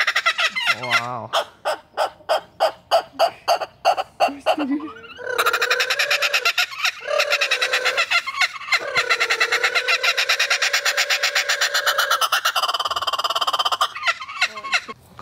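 A kookaburra at a small Latvian zoo gives its laughing call, opening with a rapid series of loud chuckling notes that swell into a long, continuous raucous cackle close by.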